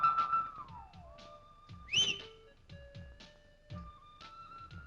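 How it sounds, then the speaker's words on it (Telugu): Someone whistles a series of sliding and held notes, faint but clear, alongside soft rhythmic background thumps. "ఏంటి ఈల ఈల అదే ఎందుకేసావు"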